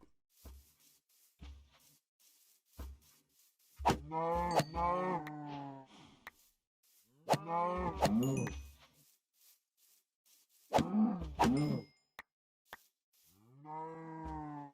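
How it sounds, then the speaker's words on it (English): Minecraft cows give several loud, drawn-out moos in clusters, separated by quiet gaps with soft plops and game sounds. "time to kill some cows and get some meat."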